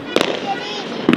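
Diwali firecrackers burst in Haryana as two sharp cracks about a second apart, close and loud, under continuous nearby chatter.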